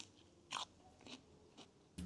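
A person bites into a crunchy garden cucumber and chews, making three or four short, quiet, close crunches spaced about half a second apart, with no talk.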